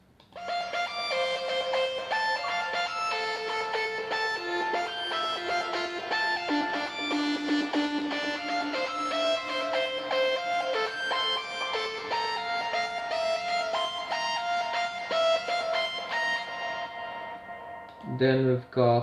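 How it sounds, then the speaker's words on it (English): A synthesized lead melody from an electronic music production plays bright, stepping notes over sustained chords, continuous and full for most of the stretch before cutting off, followed by a short burst of another sound at the end. "we've got the lead, which sounds like this."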